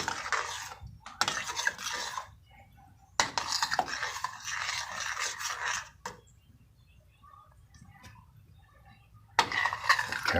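Steamed vegetables for a turkey pot pie filling being mixed in a bowl, bursts of scraping, clinking spoon-on-dish stirring separated by quiet pauses, close by and without talk.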